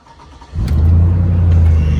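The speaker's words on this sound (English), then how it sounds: "I'm going to start the truck up too, so it might be a little bit loud" A truck engine cranks and catches after a brief quiet moment, then settles into a loud, steady low rumble close by.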